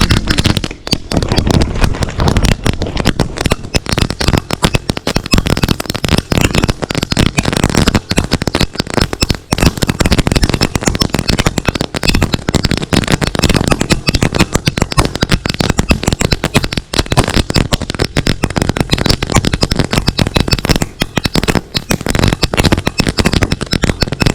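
Firecrackers bought in Divisoria go off in a dense, continuous barrage of loud cracks and pops that runs without a break for the whole stretch, close by and with no voices over them.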